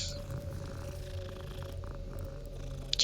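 A cat being petted in Hogwarts Legacy purrs softly in a low, steady rumble under faint game ambience, with a couple of brief high chimes at the end.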